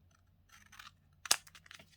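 Scissors trimming the edge of a paper journal, a few soft rustling snips followed by one sharp, crisp cut and a couple of quieter snips, close in a quiet room.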